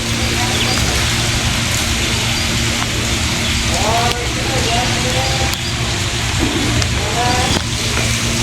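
Heavy monsoon rain falls in a park in Parli, a constant loud wash of drops on surfaces, with muffled voices and passing sounds faintly underneath.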